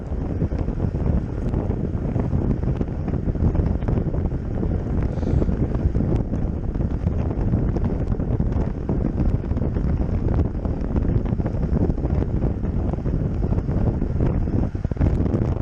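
Steady, loud wind buffeting the microphone while riding into a headwind on a group bicycle ride, a continuous broadband roar with no voices.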